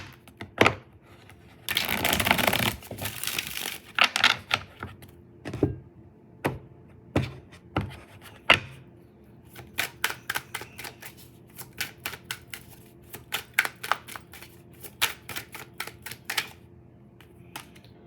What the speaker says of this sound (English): I'm gonna get one more shuffle.